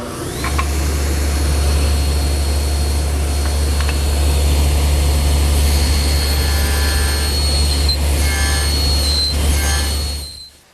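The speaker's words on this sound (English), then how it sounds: "that material is best removed using the table saw," A table saw in a woodworking shop nibbles away stock to form a haunched tenon for a Shaker wall clock, giving a steady loud motor drone with a whining high edge that runs throughout and fades at the end.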